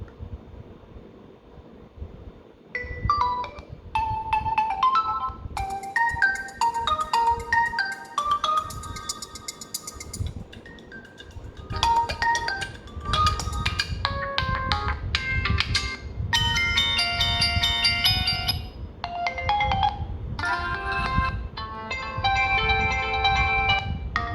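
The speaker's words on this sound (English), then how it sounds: "now let's hear the loudspeaker. There we go. Yeah, ringing volume full." A loud melodic phone ringtone plays at full volume through a Realme 5's single loudspeaker, bright repeating electronic tones in bursts over a faint background hiss, with no voices.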